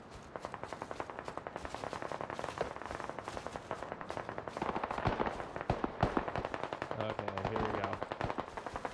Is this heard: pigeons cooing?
no